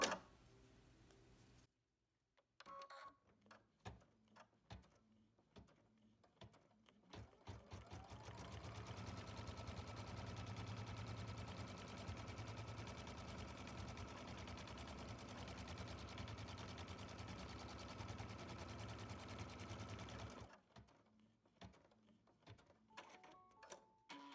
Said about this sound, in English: I'm ready to do the first tack down stitch.